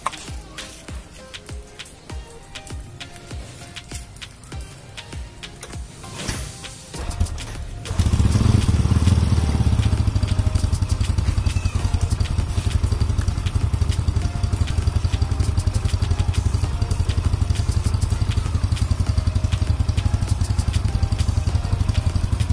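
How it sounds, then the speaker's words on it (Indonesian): A Kanzen motorcycle engine catches after a few seconds of quieter clattering, then settles into a loud, steady idle that continues to the end. "Oke, ini mesinnya sudah hidup."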